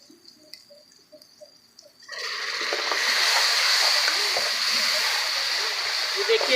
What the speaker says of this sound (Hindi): हल्का सा पानी का छींटा ऐड करेंगे इसके अंदर।